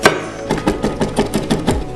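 A knife minces a garlic clove on a cutting board in quick, close, rhythmic taps, about eight sharp chops in a steady run, with no voice over them.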